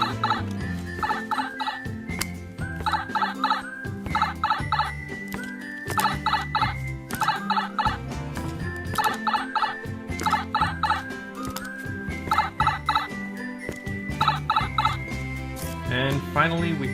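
A Jakks Pacific World of Nintendo plush warp pipe toy plays its electronic warp pipe sound effect over and over. Each burst is a quick cascade of wobbling, descending tones, looped for about seventeen seconds.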